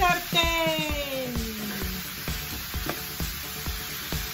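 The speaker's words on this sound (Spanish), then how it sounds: "¡Y que chille el sartén!" A frying pan of quinoa sizzles steadily on the stove with scattered clicks and stirring taps, while upbeat music or a descending tone runs over it early on.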